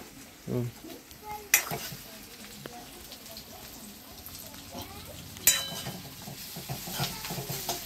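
Food being stirred in oil in a pan for idli sambar, a soft sizzle under repeated spatula scrapes and a couple of sharp metallic clinks, with faint voices in the background.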